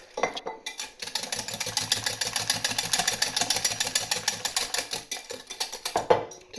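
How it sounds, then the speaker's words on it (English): Whisk beating cheese into an egg and milk mixture for a quiche, a fast, steady run of light clicking taps against a bowl for several seconds, close and alone. "flavour and creaminess to the egg and milk mix. So I'll just whisk that in."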